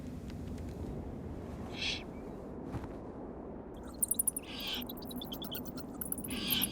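Eagle owl owlets calling at the nest, faint raspy hisses and calls over a constant outdoor background, with a few sharper clicks and chirps toward the end.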